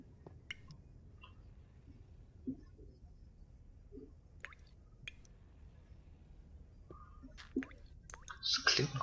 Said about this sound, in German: Es klingt nach Wasser.